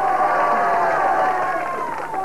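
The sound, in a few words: applause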